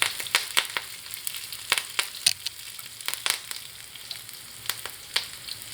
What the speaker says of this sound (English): In goes a few curry leaves.